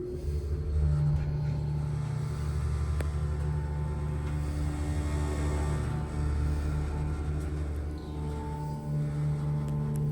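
A Dover traditional hydraulic elevator motor runs with a steady, loud low rumble and hum, continuous and close throughout, with no talk over it.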